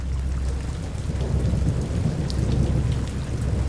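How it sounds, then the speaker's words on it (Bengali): Heavy rain pours steadily under a dark monsoon sky while deep thunder rumbles continuously, loud and close, with no voices. "বৃষ্টিটা একটু জোরে হলো, ছাঁটগুলো জোনাকির মতো এদিক ওদিক ঝরছে"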